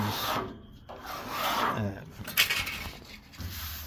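Sandpaper scrubs short-hair fiberglass body filler on a 1973 Dodge Charger Rallye 440 Magnum body, with close, irregular rasping strokes broken by brief pauses and someone talking over parts of it.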